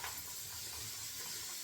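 Tap water running steadily into a bathroom sink during a shaving routine, a soft even rushing hiss, close and unbroken for the whole moment.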